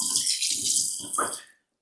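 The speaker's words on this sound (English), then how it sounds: "let me rinse this off" Tap water splashes while a container is rinsed under it, in bursts with brief breaks, then cuts off abruptly.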